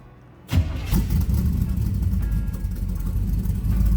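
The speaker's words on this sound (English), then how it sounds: "All right, let's fire this up." A 1930 Nash 400 Series street rod engine cranks and fires after a quiet moment, then settles into a loud, steady, close idle with a deep rumble that holds throughout.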